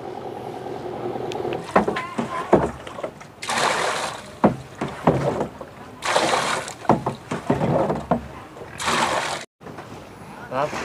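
Boat at sea towing floating fish farm rafts off Hòn Chuối, Cà Mau, with repeated loud bursts of water splashing and sloshing against the hull over a low engine, while people talk throughout.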